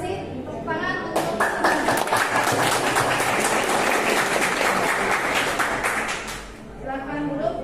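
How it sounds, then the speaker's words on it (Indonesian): A classroom of students gives a burst of applause that holds for several seconds before fading, with a teacher's voice heard at the start and end. "Tepuk tangan untuk"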